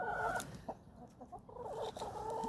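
Backyard hens clucking close by in an outdoor run, a series of short throaty clucks and calls, some louder bursts among softer murmurs, with no one speaking.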